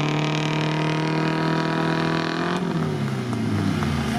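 Off-road vehicle stuck in the ground, engine revving hard and steady at close range, then the pitch drops and wavers as the load changes, with no talking.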